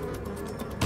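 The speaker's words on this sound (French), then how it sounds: "en plus il y a des mouches partout" Flies swarm in Resident Evil 4, giving a continuous, droning buzz at a steady level that rises briefly right at the end, with no voices.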